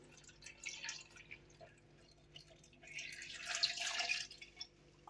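Water poured into a container while preparing an apple, melon and lemon recipe, a soft splashing trickle that swells louder toward the end, close by and with no talk over it.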